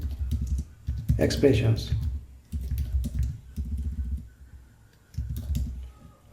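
Bursts of computer keyboard typing while code is written, clattering in uneven clusters close to the microphone, with someone speaking between and over the keystrokes.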